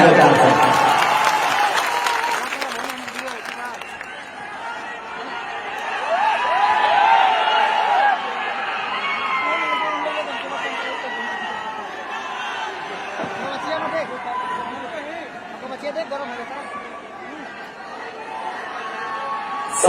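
Crowd at a Bhojpuri political rally claps loudly at first, then settles into a continuous murmur of chatter and scattered cheering, with voices rising and falling throughout.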